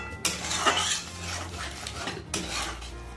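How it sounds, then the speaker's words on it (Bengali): Water sloshing and splashing in a steel mixer-grinder jar while it is rinsed and about a cup of water is poured in, with clinks of the jar against metal, close and fairly loud, in two bursts with no talk. "মিক্সির বাটিটা একটু ধুয়ে আমি জল দিলাম, সামান্য 1 কাপের মতো দিলাম"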